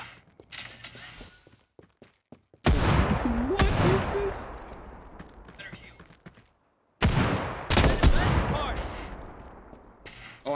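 Bursts of automatic gunfire and heavy shots in a Final Fantasy VII mobile battle royale game, loud rapid volleys in two clusters separated by quieter gaps, with a player's voice briefly over the action.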